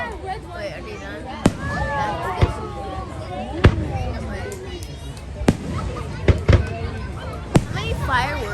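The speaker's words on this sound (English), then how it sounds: "How many fireworks do they have?" Fireworks bursting at a Canada Day celebration, a series of sharp booming cracks scattered irregularly over a steady crowd murmur, with whistling and crackle between blasts and people chatting nearby.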